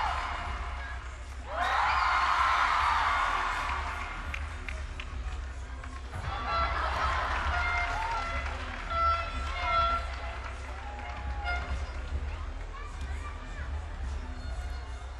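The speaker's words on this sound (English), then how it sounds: "The crowd's really getting behind this." A crowd at a rhythmic gymnastics ball final at the 2022 World Cup in Pesaro, Italy, bursts into loud, sustained cheering and applause that swells and then settles into a continuous roar with scattered shouts.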